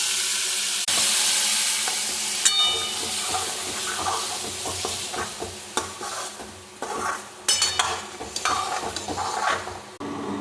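Washed green peas hit hot oil in a pan for matar aloo sabji, giving a loud, sustained sizzle with repeated stirring scrapes and metal pan clatter, close, with no speech.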